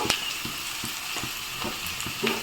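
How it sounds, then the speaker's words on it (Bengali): Pieces of taro sizzle in hot oil with a little salt and turmeric, cooking for a shrimp and taro-stem ghonto; a steady bright hiss runs throughout, broken by regular soft scrapes and taps of stirring. "দিয়ে নেড়ে চেড়ে লাল করে ভেজে নেব কচুগুলা"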